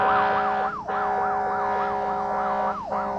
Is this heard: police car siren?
yes